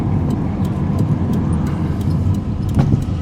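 A 1987 Toyota Camry on the move, heard from inside as a steady low engine and road rumble with small interior rattles and ticks throughout.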